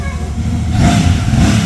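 A motorbike engine rumbles close and loud as a ride begins, idling then revving with a steady low throb, with faint voices in the background.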